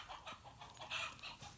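Rooster calls at a distance, faint and brief crowing or clucking bursts over a quiet background with no talk.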